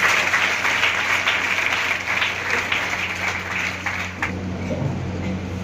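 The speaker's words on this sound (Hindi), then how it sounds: "जोरदार ताली बजा के स्वागत करें।" Sustained applause from an audience at a school program at an academy in Mahendergarh, India, filling the whole stretch as a dense, steady wash of claps that dips slightly near the end.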